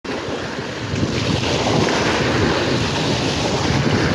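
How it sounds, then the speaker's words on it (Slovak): Sea waves rolling in on the Croatian coast with strong wind buffeting the microphone, a loud, steady wash of surf and gusts close by, continuous and without any voices. "tak troška fúka, sú vlny, ale pre mňa je to dobré, ja mám rada zase vlny"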